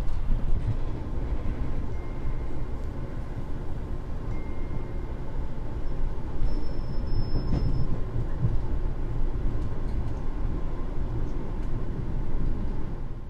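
The Taksaka passenger train speeds through Jatinegara station at nearly 90 km/h, making a continuous loud rumble and roar of wheels on rails, with faint clatter throughout.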